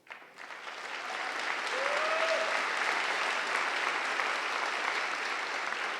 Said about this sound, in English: we'll give each one of them the applause that they deserve